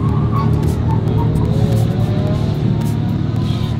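A Dodge Viper being driven fast, a loud, steady engine roar with tire and road rumble close by, holding constant throughout without any talk.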